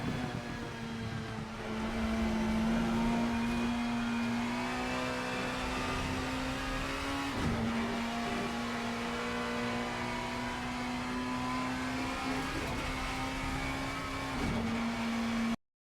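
Race car in Assetto Corsa at Autodrome Lago Maggiore, engine droning loud and steady at high revs through a long pull, with brief dips around gear changes and no talk over it.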